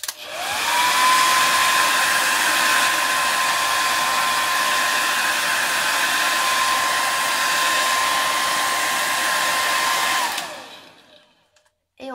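A heat tool drying embossing ink blows with a steady, loud whooshing roar and a high whine, running continuously for about ten seconds before switching off.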